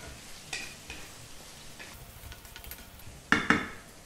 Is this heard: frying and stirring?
yes